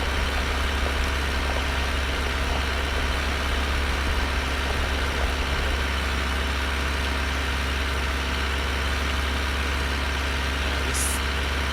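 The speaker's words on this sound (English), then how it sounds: "I think we're very much on the outer limits of what this tractor can handle with this plough." Tractor pulling a plough in the Farming Simulator 2013 video game, its heavy engine droning at a steady low rumble, loud and unbroken throughout.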